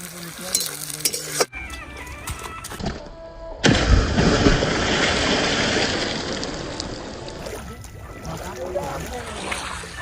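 Onions fry in a pan in an outdoor jungle cook-up before chicken goes in, a steady close sizzle with stirring scrapes and clatter, under someone talking and some background noise.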